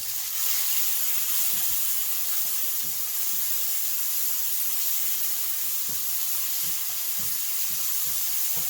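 Cherry tomatoes sauté in a hot pan with a steady, close sizzle and hiss, broken by soft stirring knocks at a loose, regular rhythm.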